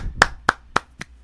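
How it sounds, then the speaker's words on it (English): Four sharp hand claps, evenly spaced and fairly close, ring out alone with no talking, a small token round of applause for a racing team. "I think they deserve a round of applause."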